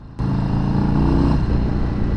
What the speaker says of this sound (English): it's gonna come with a 2-to-1 exhaust